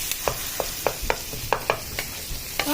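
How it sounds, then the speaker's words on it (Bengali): Long slices of eggplant hit a hot pan and fry, giving a steady hiss with a series of light, regular clicks and taps, close and fairly loud, with no talking. "তো বেগুনগুলো এরকম লম্বা লম্বা করে কেটে নিয়েছিলাম, দিয়ে দিলাম।"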